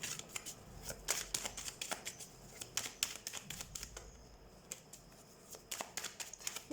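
Tarot cards shuffled and handled in a run of crisp, rapid riffles and soft flicks, close and fairly quiet, with no talking.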